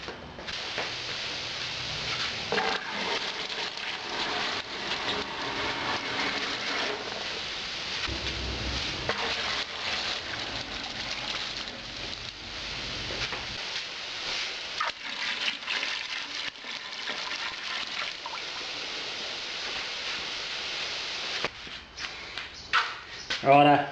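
Water pours steadily into a tub holding cider bottles, a continuous broad rushing splash that runs for over twenty seconds before tapering into brief clunks and sloshes near the end.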